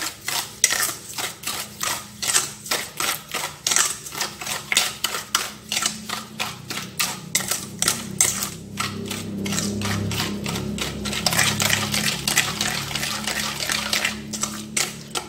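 A utensil scrapes and taps rhythmically around a bowl, mixing a thick wet cake batter of fermented cassava and sugar in quick repeated strokes, close up and steady.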